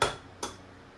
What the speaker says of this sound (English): we'll crack an egg here